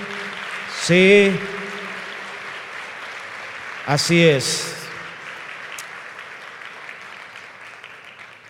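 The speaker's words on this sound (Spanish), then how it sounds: "Aplaudan fuerte." Church congregation applause runs as a steady wash of clapping throughout, while a pastor speaks briefly over it in Spanish through the sound system.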